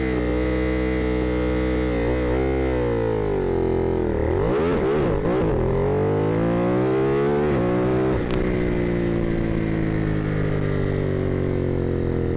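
A 2021 Ducati Monster 937 motorcycle makes a loud, close launch, its engine note rising hard through acceleration with a gear-change dip midway before climbing again, steady and unbroken.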